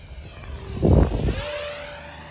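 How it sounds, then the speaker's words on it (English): Freewing 64mm F-22 RC jet plane flying past, its rising ducted-fan whine swelling loud at mid-pass and then holding a steady high tone as it moves away. "This is the Freewing 64mm F-22."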